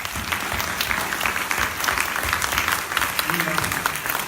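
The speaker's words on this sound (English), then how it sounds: "if we could just have a round of applause for the candidates, please." Audience at a Democratic meet-the-candidates forum for a state assembly district applauds the candidates, a continuous, even wash of many hands clapping throughout.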